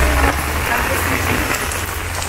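Rain falls on Christmas in the Philippines, a dense continuous hiss of drops on surfaces at an even level throughout, with a low rumble underneath.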